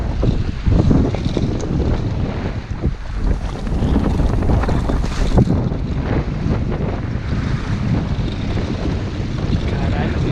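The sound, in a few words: strong wind blowing on a 16-foot sailboat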